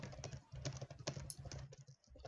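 Rapid typing on a computer keyboard during an Age of Empires III match, with steady clustered key clicks close to the mic over a low background hum and no speech.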